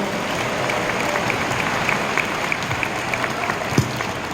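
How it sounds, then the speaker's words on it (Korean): A large crowd of some three thousand people applauds the chairman at a Liberation Day patriotic walking event in a handball arena. The clapping is continuous and reverberant, with a few louder claps standing out near the end. "여러분 다시 한번 우리 양재곤 회장님께 박수 한번 쳐드리면 좋겠습니다."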